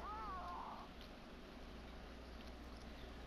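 A short, high meow from a cute little kitty in a cat-adventure video game, heard briefly near the start over a steady low background hum and ambient game sound, with no talking.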